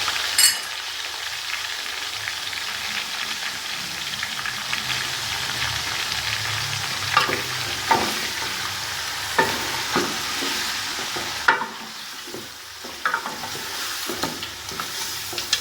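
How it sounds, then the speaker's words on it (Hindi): Chillies, garlic and ginger fry in a pan, giving a constant close sizzle and crackle punctuated by repeated spoon-against-pan clinks and stirring scrapes, with no one talking. "लहसुन अदरक और दोनों मिर्चें हम डाल के भूनेंगे इसको"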